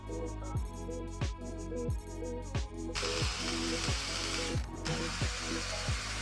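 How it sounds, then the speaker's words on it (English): A torque wrench ratchets valve cover bolts on an Infiniti engine, a steady run of clicking strokes followed by a harsher, brighter grinding rasp, close and fairly quiet. "Next, we tighten them in the same order, 1 through 12, and torque them down to 73-inch pounds."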